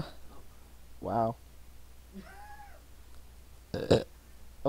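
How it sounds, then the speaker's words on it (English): Two short, throaty burps, the second louder and rougher, come from people playing a flash game, with faint tonal game sounds between them and little other noise. "Oh, your burps helped me."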